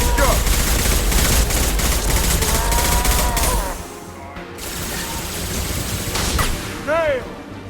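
A concussive shot ability fired in Mass Effect 2, heard as a loud burst of game weapon fire and mechanical clatter for several seconds, then a quieter stretch with a brief whooshing effect near the end.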